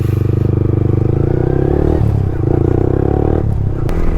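A motorcycle fitted with a full system exhaust runs close by, its loud, rapidly pulsing engine note steady, briefly dipping and then picking up again with a light mechanical clatter.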